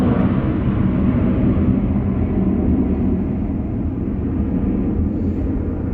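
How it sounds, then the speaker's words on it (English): An airplane passes overhead outdoors with a steady, loud, broad roar that holds for several seconds without any talk. "Let me wait for this plane."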